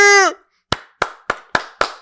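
Five sharp hand claps in a steady rhythm, close and loud, just after a brief shout of a voice celebrating New Year on a podcast.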